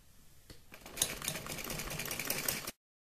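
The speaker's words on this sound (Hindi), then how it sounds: "एक एक सिलाई हम दोनों साइड को, आगे और पीछे के हिस्से में दोनों साइड इस तरह से एक एक सिलाई लगा देंगे।" A sewing machine stitching the frill onto a baby dress, a close, fast rattling run of stitches lasting about two seconds before stopping abruptly.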